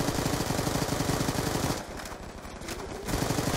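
Rapid automatic gunfire from Black Ops 2, with dense, rhythmic bursts that run almost continuously and ease slightly in the middle before returning at full loudness.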